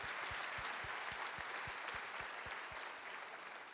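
A church congregation applauds steadily with dense clapping, joined by rhythmic low thumps, tapering slightly toward the end.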